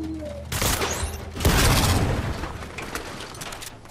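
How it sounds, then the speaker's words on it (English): An explosive crossbow firing in Fortnite, a sharp launch followed by a cluster of crackling blasts and a heavy boom that fades into a rumbling tail. "I have the explosive crossbow, guys. It goes like this."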